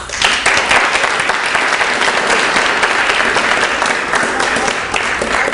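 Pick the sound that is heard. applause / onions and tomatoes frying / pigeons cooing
applause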